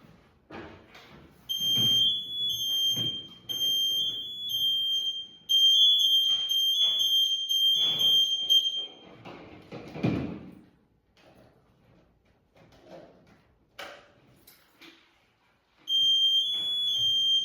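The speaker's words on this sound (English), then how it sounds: "our goal here now is to get this one to go into the fourth alarm" A firefighter's personal safety alarm device sounds shrill, high electronic beeping tones in repeated bursts, with clanks and thuds of gear between them and no talking.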